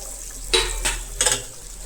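Tomatoes added to a frying chicken curry (kosha murgir mangsho) and stirred: three short scraping, sizzling strokes of a utensil against the pan, close and distinct, over a low steady hiss.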